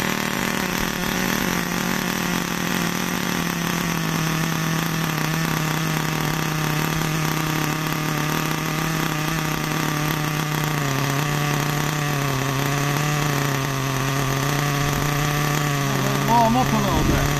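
Nitro RC car engine running steadily and loudly throughout, its buzzing drone wavering as the throttle is blipped in short bursts, with someone talking over it.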